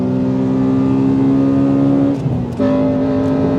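A Honda Accord Euro R engine roars loudly at high revs, holding a steady drone, briefly dipping as if shifting gear, then surging back up.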